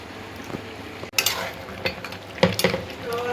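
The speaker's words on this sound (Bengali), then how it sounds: "এটা পাঙাশ মাছ রান্না হচ্ছে আলু দিয়ে" Pangas fish and potatoes cook in a pan, a low sizzle broken by a few sharp scrapes and clinks of a spatula being stirred through, close by.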